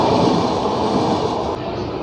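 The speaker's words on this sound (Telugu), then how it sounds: "ఇప్పుడు ఇది గోదావరి ఎక్స్ప్రెస్ ఇది" Godavari Express from Secunderabad to Visakhapatnam rushes past as a loud, steady roar of rail noise, with no voices.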